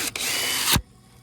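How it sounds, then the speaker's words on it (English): A power drill whirs at high speed, drilling a drainage hole through material for under a second, winding down abruptly, loud and close. "Drill a couple holes in here."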